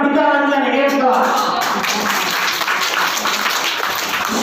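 An audience claps for a quiz winner at a school Bihar Diwas programme, steady applause from a crowd that fills the space. Someone speaks over the start of the clapping.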